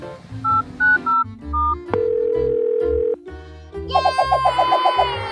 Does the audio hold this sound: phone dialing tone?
yes